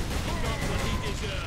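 Heavy, dense gunfire from enemy weapons in the video game Space Marine, a continuous loud barrage of rapid shots filling the short moment with no letup.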